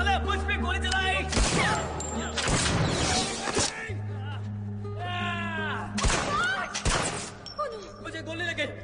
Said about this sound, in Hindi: साले मुझ पे गोली चलाई।